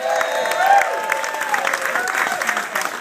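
A crowd claps and cheers for the sound engineer at a Napa School of Music rock and roll show, steady loud applause lasting throughout, with some voices calling out.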